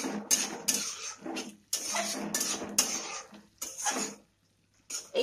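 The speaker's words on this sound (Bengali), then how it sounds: "খুব ভালোভাবে নাড়িয়ে দেওয়ার পর গ্যাসটাকে একটু হাই ফ্লেমে করে দিয়ে আবার একটু নাড়িয়ে দেব।" Masala prawns stirred in a pan over a high flame, with a metal spatula scraping and clanking in repeated bursts separated by short pauses, close and fairly loud.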